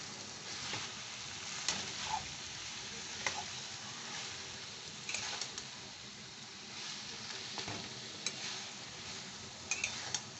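Cabbage and katla fish head curry being stirred in an oiled pan, a steady sizzle of frying with scattered scraping clicks of a spoon against the pan throughout, no talking.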